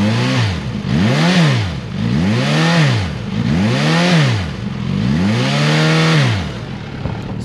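A 2023 Suzuki GSX-S1000GT inline-four motorcycle engine revs repeatedly, rising and falling in pitch four times in steady cycles, loud and close with no talking.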